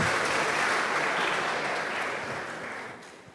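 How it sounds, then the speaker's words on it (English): An audience at a book talk breaks into dense, even applause that holds steady, then gradually fades toward the end. "Yeah, I'll clap for that too."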